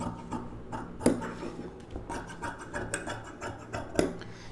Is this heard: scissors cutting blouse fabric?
yes